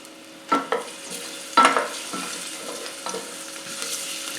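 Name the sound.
garlic sizzling in oil while stirred with spoon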